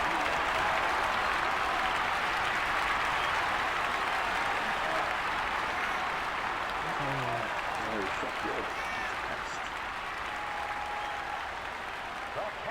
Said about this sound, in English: A home run. Listen to this crowd. They know what's going on.